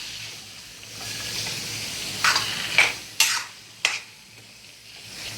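A spoon stirs chicken pieces coated in thick masala gravy in a pan for a Kerala-style chicken dry roast, with a soft sizzle underneath and four distinct scraping strokes, close and fairly quiet.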